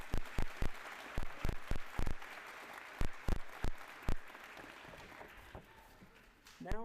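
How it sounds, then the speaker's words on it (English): Graduation ceremony audience applauds for a nurse graduate, with loud distinct claps over a crowd wash that gradually thins and fades, a brief voice entering at the very end. "Let's give her another round of applause"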